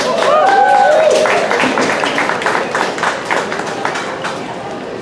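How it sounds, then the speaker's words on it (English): An audience at a pet gala at the AKC Museum of the Dog in New York City claps in steady, dense applause that starts loud and slowly thins, with some voices mixed in. "Please give them a round of applause"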